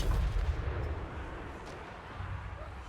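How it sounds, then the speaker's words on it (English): An artillery cannon fires in a tabletop miniatures battle, a heavy booming blast at the start followed by a decaying rumble and faint echoing tail. "Cannon turns and fires its last shot."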